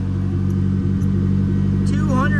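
A hot rod engine holds a steady, loud rumble during its first dyno pull on a FuelTech setup, with a brief rising rev near the end.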